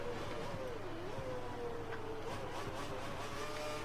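F1 car engine in F1 2013 at the Spanish Grand Prix, a faint, steady whine that rises and falls as it revs through corners, heard at a distance beneath game noise.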